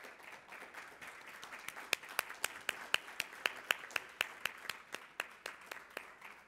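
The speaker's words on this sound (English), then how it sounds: "Please join me in giving the bronze winners a round of applause." A fairly small audience at a science prize ceremony claps for the bronze winners, with sparse individual claps at first and then a few crisp, regular hand claps ringing out distinctly over soft, thin applause.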